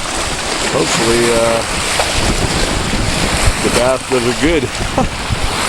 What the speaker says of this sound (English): These waves are huge